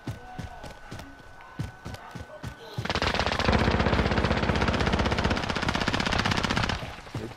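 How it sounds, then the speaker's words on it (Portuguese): Rapid machine-gun fire rattles in the video game Warzone, starting with scattered shots then bursting into a dense, continuous volley for several seconds before cutting off. "Eita barulheira de tiro."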